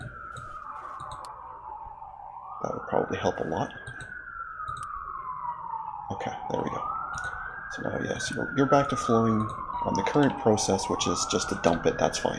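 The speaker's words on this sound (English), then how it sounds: "And I apologize for the sirens. I know they're very loud." Loud wailing sirens in the video game Captain of Industry, rising and falling in slow repeated sweeps under someone talking, with clicks and mechanical clatter from the game throughout.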